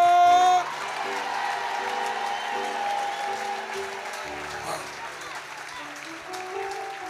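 A church congregation in Martinique applauds steadily, with the clapping mixed under a voice and musical tones.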